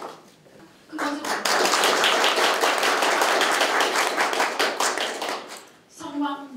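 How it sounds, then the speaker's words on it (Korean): An audience applauds at a Daegu award ceremony honouring contributors to the future mobility industry. A short tap opens it, then a dense burst of clapping swells in, holds for several seconds, fades, and picks up briefly again at the end. "큰 박수"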